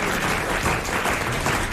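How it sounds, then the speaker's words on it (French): Studio audience applause on a French radio-TV panel show, dense steady clapping for under two seconds, moderately loud and unbroken. "Merci d'applaudir."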